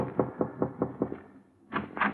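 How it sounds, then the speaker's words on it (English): Gentle knocking at a door: five soft, evenly spaced taps, a short pause, then two slightly louder raps, all close by with no voices. "he was tapping gently at my door"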